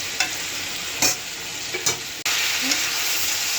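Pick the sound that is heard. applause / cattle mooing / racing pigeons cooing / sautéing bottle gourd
sautéing bottle gourd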